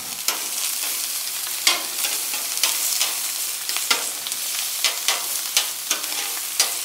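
Bacon and onions frying on a hot grill for smash burgers, a loud continuous crackling sizzle with repeated scraping and spatula taps at an uneven rhythm, close by and with no voices.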